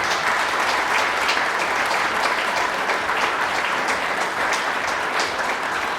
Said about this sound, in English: A round of applause for Chris.